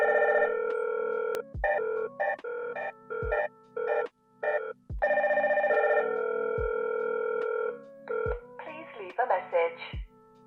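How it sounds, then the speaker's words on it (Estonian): A Hikvision IP intercom rings after a call from the door panel goes unanswered, sounding as a loud, clear sequence of repeated electronic tones and chime bursts with short pauses between them. "Nüüd aga proovime, mis juhtub siis, kui me helistame kutsepaneelist,"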